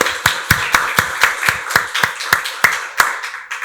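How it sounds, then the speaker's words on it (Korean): A church congregation at Sunday worship claps in slow unison, about a dozen sharp, evenly spaced claps that end cleanly, close and moderately loud. "박수로 하나님께 영광 돌리겠습니다"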